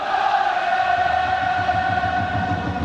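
A football stadium crowd at a 2009 Nagoya Grampus versus Kawasaki Frontale match chants steadily, a continuous sustained roar with tonal singing that stays even and loud throughout, with no voices standing out.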